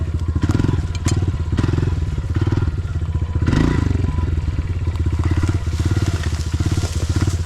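A 2022 Honda CRF125F dirt bike rides off-road, its small single-cylinder engine chugging loudly and close in a steady pulsing beat, with thumps and clatter from the rough ground.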